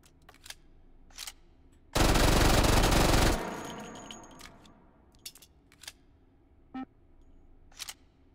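An unsuppressed MAC-10 fired in the VR game Hot Dogs, Horseshoes & Hand Grenades lets out one loud, continuous full-auto burst of just over a second, set among quiet mechanical clicks and handling clatter before and after.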